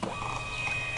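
A BlackCopper BC 97-AC thermal printer prints an invoice, a steady, close mechanical whir that runs unbroken for about a second.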